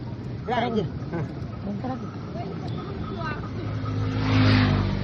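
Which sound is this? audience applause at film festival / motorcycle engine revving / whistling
motorcycle engine revving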